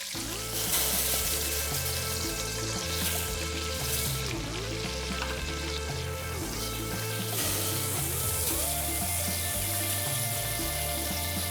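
Steady, gentle sizzling of butter and anchovies melting in a pan, a soft continuous crackle with faint stirring, close by and with no talking.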